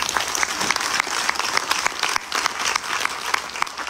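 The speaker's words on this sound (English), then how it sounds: "Give him a round of applause" A crowd at a Ganesh Chaturthi celebration applauds briskly, with sharp individual claps standing out over the continuous wash of clapping.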